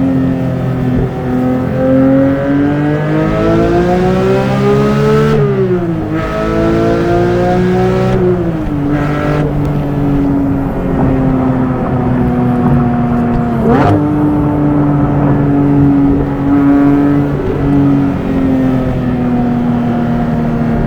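A Porsche 911 GT3 engine revs hard and climbs through the gears, its pitch rising then dropping at each shift, loud and close throughout.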